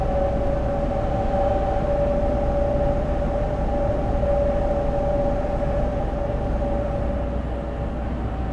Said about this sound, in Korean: 열차가 출발하였습니다